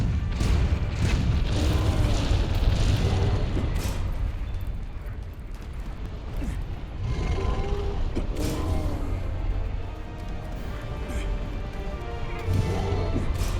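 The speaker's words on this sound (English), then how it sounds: "This might be one of the other fast cannons to load." Heavy cannon booms and mechanical loading clanks in Monster Hunter: World sound through a dense, continuous rumble of game noise, with several deep impacts spread across the stretch.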